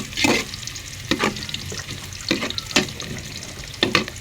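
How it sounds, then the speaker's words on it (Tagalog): Milkfish being sautéed in a pan for sinigang, a continuous loud sizzle punctuated by five or six sharp scraping strokes from a spatula, heard close with no voices. "ginigisa ko ng mabuti para hindi madaling masira yung ulam namin"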